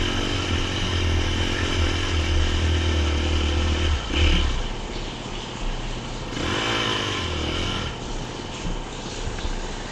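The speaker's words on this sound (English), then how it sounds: "The bike just carries me on up." Dirt motorcycle engine labouring steadily up a steep trail climb, loud and close throughout, with a brief surge in revs partway through and no talking.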